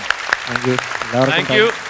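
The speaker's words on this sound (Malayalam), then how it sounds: "ആ കൈയടി ഒരിക്കൽ കൂടി ഒന്ന് കേൾപ്പിച്ചു കൊടുക്കാം നമുക്ക്" Audience clapping rises and falls beneath a person speaking clearly in the foreground at a televised comedy show.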